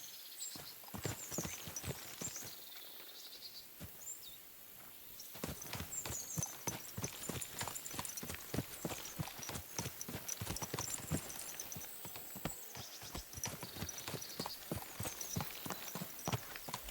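Horse hooves clip-clop in a steady walking rhythm in the video game Kingdom Come: Deliverance II, faint and continuous, with soft ambient background.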